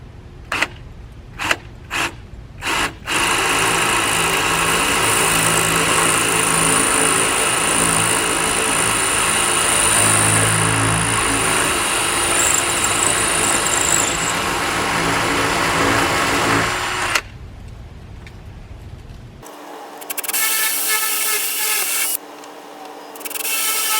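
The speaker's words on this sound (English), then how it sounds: "I don't need to drill into the brick any further than that" Power drill boring holes into brick for an RV plug installation; a few short trigger bursts lead into a long, loud grinding run, then the motor cuts off and a quieter spin or two follows.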